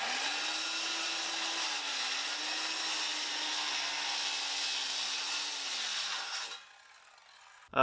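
A wooden board is cut to length with a power saw for a custom ping pong table, a steady high whine with a droning hum running for about six seconds before cutting off into near silence.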